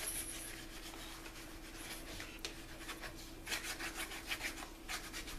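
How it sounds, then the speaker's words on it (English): Raw brass blank being burnished, a faint, soft rubbing and scraping with irregular strokes that grow slightly more pronounced toward the end, alone without voices. "I'm centering that on there nicely so I can turn it over and burnish it."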